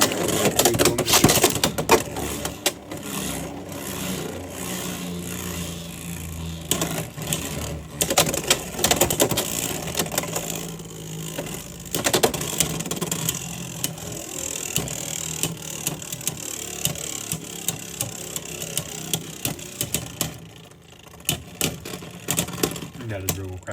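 Beyblade X spinning tops are launched into a stadium, producing close, rapid clattering and clicking collisions that pulse on and off across the stretch, with sharp impacts and occasional voices in between.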